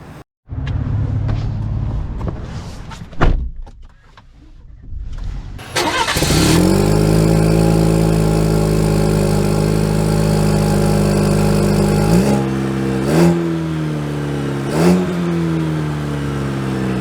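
A 2024 Chevy Silverado Custom pickup with a 4-cylinder engine starts up with a sharp crank, settles into a steady idle, then revs and pulls away with rising engine tone and gear shifts, close and loud.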